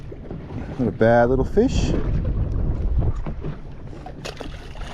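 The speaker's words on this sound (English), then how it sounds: "This wind just really isn't letting up." Strong wind buffets a small fishing boat on the Moreton Bay shallows, a heavy low rumble that sweeps loudly across the microphone while someone speaks briefly over it.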